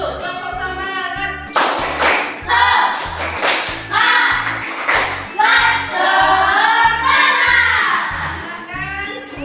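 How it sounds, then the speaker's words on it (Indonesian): Schoolchildren in a classroom perform a rhythmic spirit clap, steady patterned claps repeating in a regular beat while their voices chant along over it. "Tepuk semangat dulu. Tepuk semangat."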